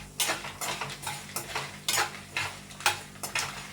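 A spoon stirs green chillies around a hot pan while gongura pachadi is being made. It makes rhythmic, close scraping clinks, about a dozen strokes with light sizzling underneath and no voices.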